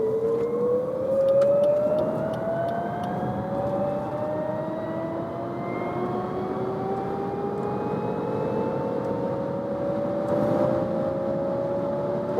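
A Lexus UX 300e electric car speeds up, its whining motor tone sweeping steadily upward in pitch and staying fairly quiet beneath road and wind noise, with no talking.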